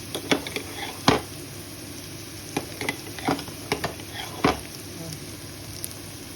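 Garlic paste stirred into browned fried onions in a pan for chicken pulao, giving a low background sizzle broken by several distinct scraping stir strokes and spoon knocks.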